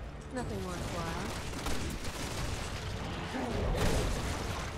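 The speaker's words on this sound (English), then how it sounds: "casually taking gunfire to the back" Rapid bursts of gunfire and mechanical clattering with creaks in Resident Evil 6, mixed with a voice and game sound effects.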